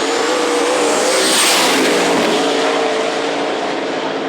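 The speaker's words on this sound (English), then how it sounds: "Michael Newcomb takes the win in his twin-turbo Chevy Nova" Twin-turbo Chevy Nova in a small tire drag race at Knoxville Dragway, a loud, sustained engine roar at full throttle, very close and constant throughout.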